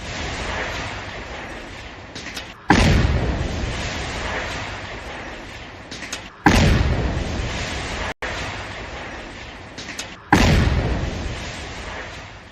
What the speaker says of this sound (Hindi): धमाके की गूंज सुनिए।